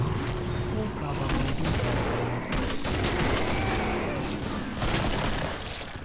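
A pipe bomb explosion and heavy gunfire in the shooter game Killing Floor form a dense, continuous barrage of rapid shots and blasts that stays loud and unbroken throughout.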